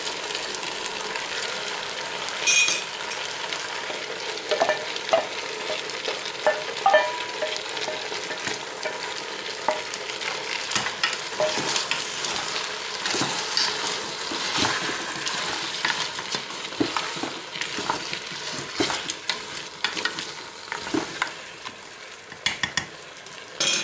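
Vegetables sizzle and fry steadily in a Cookeo multicooker pot for turkey blanquette, a dense continuous crackle with frequent stirring scrapes and clinks of a utensil against the pot throughout.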